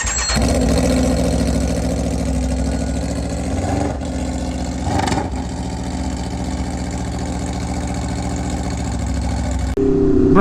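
An Aprilia motorcycle with an aftermarket GP22 exhaust runs loudly and throatily, swelling in a couple of brief revs before settling into a steady idle.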